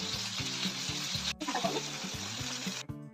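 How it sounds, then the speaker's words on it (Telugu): Potatoes fry in a pan with curry leaves and salt for a simple potato fry, producing a continuous close sizzle broken by a couple of abrupt cuts, with watery bubbling and soft stirring. "ఇలా 5 minutes వేయించుకోవాలి"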